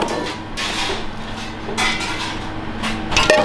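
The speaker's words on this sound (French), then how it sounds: "maintenant on va incorporer progressivement donc dans les blancs notre appareil. On va mettre tout ça dedans et tu vas le mélanger." Soufflé base with Beaufort cheese being folded into beaten egg whites in a bowl, soft repeated scraping and swishing strokes with a few light clinks of a utensil against the bowl.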